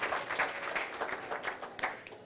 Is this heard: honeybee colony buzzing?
no